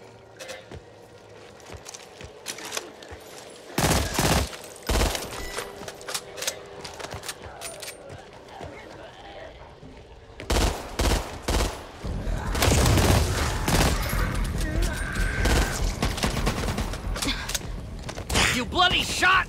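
Gunfire bursts from the co-op zombie shooter Back 4 Blood, loud clustered shots in short volleys early on, then a denser, sustained stretch of firing and clatter with game noise and voices mixed in.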